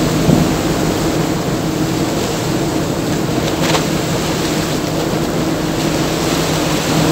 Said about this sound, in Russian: Ну, чем тебе не водопад, Виктория?